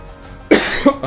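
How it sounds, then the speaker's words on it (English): A sudden close cough bursts out, followed quickly by a second, smaller cough and a throaty sound. "My apologies for coughing"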